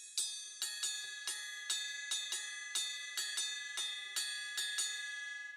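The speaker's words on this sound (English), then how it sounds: "That element is a pattern on the right cymbal" Ariaria pattern struck on a drum kit's right cymbal, a bright ringing hit repeated in an uneven, syncopated cycle of about a dozen strokes, close and clear with no other sound.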